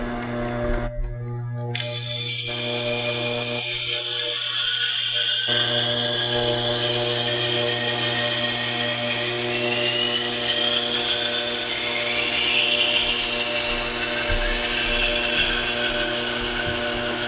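A 1x30 belt grinder running a 220 grit belt while a chef knife is sharpened at 21 degrees, giving a steady loud whirring hiss with bright grinding texture that holds continuously from start to finish after a brief quieter opening.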